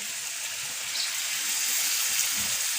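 Hot garlic tasha, the fried garlic dressing used for Alexandrian liver, hitting a dish with a steady rushing hiss that builds slightly toward the end, alone with no talk.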